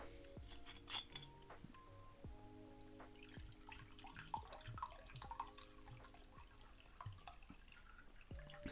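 Water poured into a glass, faint and close, with trickling and dripping sounds and small glassy clinks over a quiet background, no voices.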